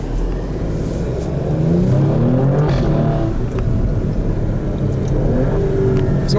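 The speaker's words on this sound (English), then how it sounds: "Great sounding car, I've got to be honest." An SUV's V6 engine revs hard in race mode, a loud close rising and falling roar with rough rumbling undertones over about six seconds.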